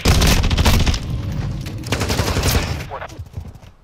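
Loud, close automatic gunfire from the shooter Call of Duty: Modern Warfare during a Strike match, with dense rapid bursts and heavy booms that thin out toward the end.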